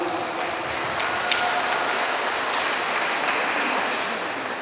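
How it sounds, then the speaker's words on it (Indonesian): An audience at a university inauguration and rector installation ceremony gives sustained applause. It is a dense, even wash of many hands clapping for several seconds, fairly loud and unbroken, with no voices over it. "saya minta tepuk tangan kepada Kepala Lembaga L2 Dikti"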